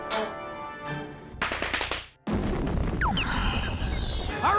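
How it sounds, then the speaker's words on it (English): A pirate cannon fires in a children's program, heard as sharp loud booms and bursts with a crackling, rumbling tail that fills the clip. "A cannon may have been a pirate's meanest weapon, Fire!"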